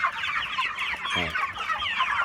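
Broiler chickens clucking in a steady, busy chorus close by, with overlapping calls and no talking.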